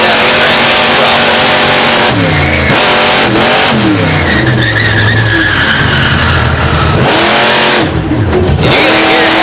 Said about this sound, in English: Listen, he'll wrap the throttle a couple times.